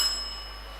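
A contestant's answer bell rung at a national business quiz championship, a single bright ring that fades away over under a second, heard alone.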